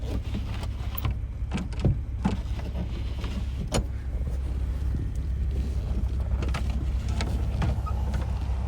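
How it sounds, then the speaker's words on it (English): A manual window crank turns on a 1953 Nash Rambler Custom convertible, giving faint clicks and ticks over a low, steady rumble of background noise, with no voices. "all the windows actually crank really well. They go up and down very nicely, almost effortless"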